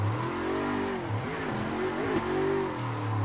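Car engine revving hard while drifting a figure eight, a loud continuous drone that rises and dips with throttle changes through the transitions, no talking.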